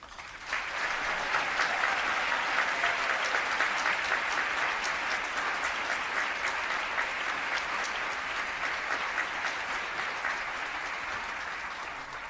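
Sustained applause from an audience at a speech event, a dense even patter of many hands that rises quickly after a short pause and holds steadily before tapering slightly near the end.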